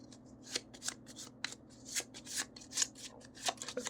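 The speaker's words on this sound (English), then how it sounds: "There's a lot of shuffling in this, as in any of these deck builders where you discard your whole hand." Cards being shuffled during a tabletop deck-building game, heard as a run of quick papery riffles and snaps that come in irregular bursts, close up and clear, with no one talking.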